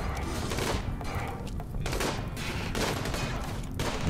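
Rapid gunfire from a squad battle in the colony-simulation game RimWorld, with bursts of shots and thuds running steadily through the whole stretch at a close, fairly loud level.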